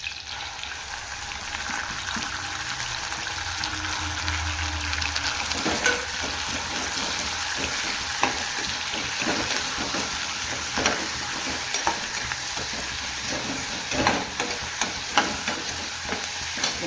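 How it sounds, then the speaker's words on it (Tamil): Washed mutton frying and being stirred into softened onions in a pan for goat meat gravy, a steady close sizzle broken by repeated scraping stir strokes, with no talking. "நம்ம வந்து வாஷ் பண்ணி இருக்கிற மட்டன் சேர்த்துக்கலாம்."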